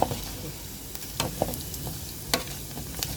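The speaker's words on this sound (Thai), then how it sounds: "เจียวน้ำมันหมูค่ะ" Pork fat rendering in a frying pan, a constant close sizzle with occasional scraping knocks as it is stirred, several distinct strokes spaced a second or so apart.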